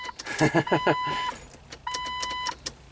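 Ignition key turned to the start position in a Jeep Wrangler with a no-crank fault: keys jangle in quick clicks, then two steady electronic chime tones sound, with no engine cranking.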